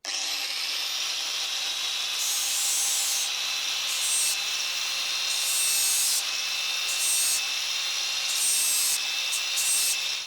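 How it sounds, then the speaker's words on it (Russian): An angle grinder whines steadily against a metal sprocket it is shaping, with a harsh high-pitched scraping that cuts in and out in repeated bursts. "И немного доработать с помощью болгарки."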